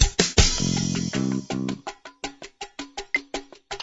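Drums in the Dora's Big Birthday Adventure PC game, a short sustained chord giving way to a steady run of sharp, evenly spaced hits that ring briefly each time. Loud and close, no voices.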